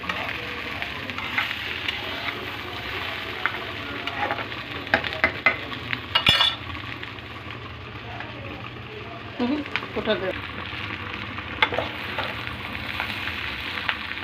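Bitter gourd and shrimp stirred and frying in a pan, a steady sizzle with scraping utensil strokes and occasional clinks, heard close under soft background.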